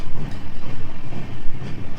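The Jagannath Express passenger train's low, pulsing rumble rolls in close and heavy at Santragachi station, with rhythmic thumps as it moves slowly.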